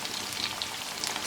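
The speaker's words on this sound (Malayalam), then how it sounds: "ഇപ്പോൾ നമ്മുടെ ചിക്കൻ പീസുകളെല്ലാം ഫ്രൈ ആയി കഴിഞ്ഞിട്ടുണ്ട്." Chicken 65 pieces frying in hot oil, a steady fine crackle and hiss with scattered brighter pops, close and moderately quiet, with no talk.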